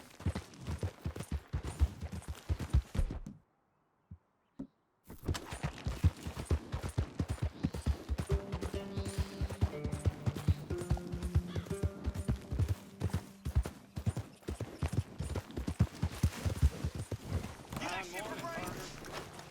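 A horse gallops in the video game Red Dead Redemption 2, with rapid, rhythmic hoofbeats pounding steadily close by, broken by a brief silent gap, while music and a voice speak over the ride.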